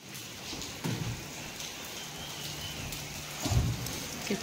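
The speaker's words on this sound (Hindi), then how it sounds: "कितना बारिश हो रही थी" Rain falls outdoors in India during a monsoon-season trip, a soft, steady hiss with a few brief louder thumps and no voices.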